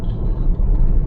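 A vehicle drives along a long rural road toward Maun in Botswana, heard as a loud, steady low engine and tyre rumble from inside the cabin, with no talking.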